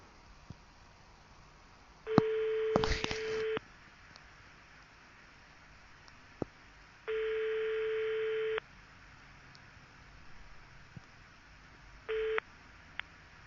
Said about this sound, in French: Ah, là ça sonne.